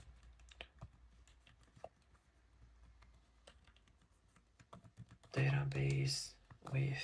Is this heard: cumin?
no